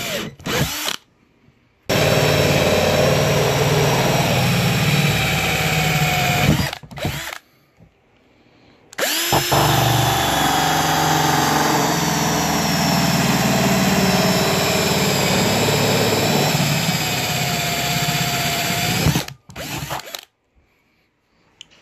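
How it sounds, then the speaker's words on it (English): A cordless drill cuts holes with a 70 millimeter hole saw in two long, loud, steady runs of high whining grind, separated by short pauses, with a brief start and stop at either end. "I'm going to go with the 70 millimeter hole saw. And we're going to go with some holes."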